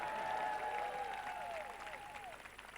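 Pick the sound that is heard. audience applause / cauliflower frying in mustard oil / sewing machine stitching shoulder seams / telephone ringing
audience applause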